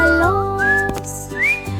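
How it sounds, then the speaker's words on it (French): A whistled melody from a children's song, a few clear sustained notes gliding up and down over a steady musical backing, with no singing during the phrase. "Nous sifflons des mélodies"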